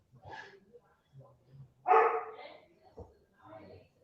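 A dog gives one loud, close bark amid a few softer yips and grunts, with people talking quietly around it.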